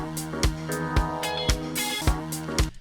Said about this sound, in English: And it's got like a bit of a stutter as it loops back around.